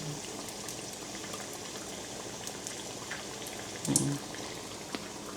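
Steady crackling sizzle of food frying in hot oil, fairly quiet and continuous, with a brief louder clatter near the end.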